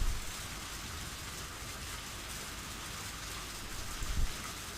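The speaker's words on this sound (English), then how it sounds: "The delightful sound of rain really helps me to not be sleepy, right?" Steady rain in the Higurashi video game, a continuous hiss of falling drops with a faint low rumble, alone and unbroken throughout.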